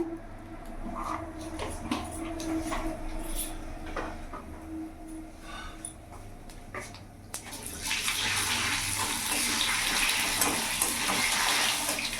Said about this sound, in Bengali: এরই মধ্যে আমি কালো জিরে ফোড়ন দিয়ে দিলাম